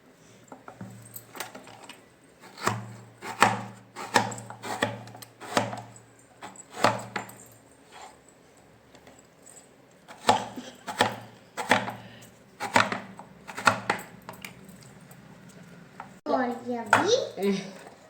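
Vegetables sliced thin and long with a knife for an evening snack, a run of sharp, evenly spaced chopping knocks on a board in two bursts, close and clear, with occasional background voices.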